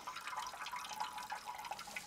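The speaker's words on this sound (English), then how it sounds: "I'm uh, collecting my water right here out of the side of the mountain here." Spring water trickles out of a mountainside as it is collected, a faint, continuous gurgling flow with small drips, heard close and alone.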